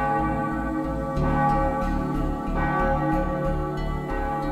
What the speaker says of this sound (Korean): 잠을 깨우는 맑은 종소리가 매일 새벽마다 울려 퍼지는 곳